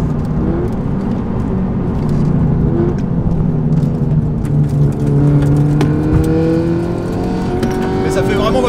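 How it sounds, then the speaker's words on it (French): A Peugeot 308 race car engine drones steadily at speed on the Nürburgring, its pitch slowly rising and falling through gear changes, a loud, continuous in-car roar with no talking. "Le son de la voiture est vraiment très cool."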